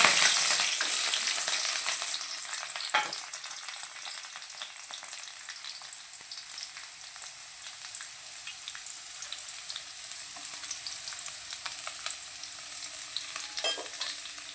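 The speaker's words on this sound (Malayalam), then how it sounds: "ഇതിലേക്ക് കറിവേപ്പിൻ്റെ ഇലയും ഇത് രണ്ടും കൂടി നമ്മൾ അരിഞ്ഞ് വെച്ചത് കറിവേപ്പിൻ്റെ ചെറിയ ചെറിയുള്ളിയും കൂടി നമുക്ക് മൂപ്പിക്കാം" Curry leaves and small shallots frying in hot oil in a pan, a steady loud sizzle that eases slightly after the first seconds, with occasional stirring clinks and no talk.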